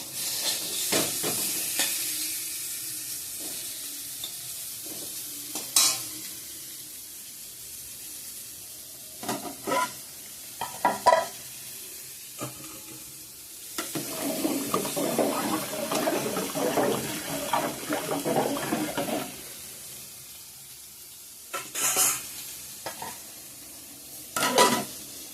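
Bitter gourd (karela) fries in a pan and gets stirred, giving a soft steady sizzle broken by intermittent scraping and clattering strokes of the utensil; no one speaks.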